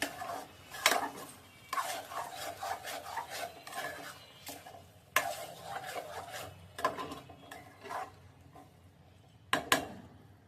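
Leafy greens with a spice tempering are stirred in a cooking pan, giving repeated scraping, rasping strokes of a utensil against the pan in uneven bursts, fairly quiet and close, with no talking.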